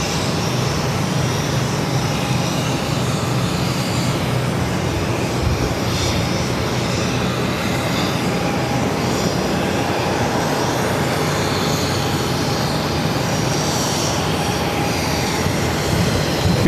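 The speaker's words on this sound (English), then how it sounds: "Airbus 330 departing runway 22 right" An Airbus A330 takes off from runway 22 right at Boston Logan, its jet engines a loud, continuous broadband roar that holds steady throughout.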